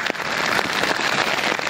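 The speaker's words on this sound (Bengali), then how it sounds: "ওই দেখো পুরো বরফ বৃষ্টি হচ্ছে।" Sleet and snow fall steadily at Kedarnath in the high Himalayas, a continuous close hiss of icy pellets pattering on surfaces and a tent, with no voices.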